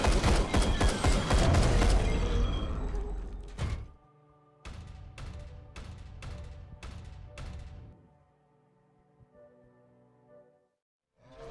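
Gunfire in the Warhammer 40K Regicide video game: a dense roaring volley for about four seconds, then four or five evenly spaced heavy shots with ringing tails, ending in a faint low hum.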